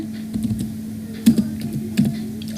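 Keys tap on a computer keyboard while entering an Excel formula, sparse clicks with a couple of sharper presses over a steady background hum.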